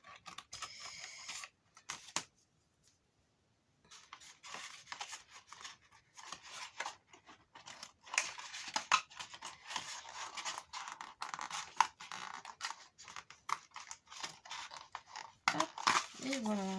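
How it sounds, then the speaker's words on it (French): Small scissors clatter and rub faintly among coloring supplies as they are rearranged in a box, giving soft scraping and clicking handling noises with a quiet gap early on, then steady fumbling close by. "Je vais remanier mes petits ciseaux."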